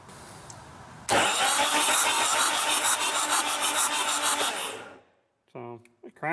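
Cummins engine cranking over in a Hyster forklift, the starter kicking in abruptly and churning with a rhythmic chug for about four seconds before stopping; someone speaks briefly afterward.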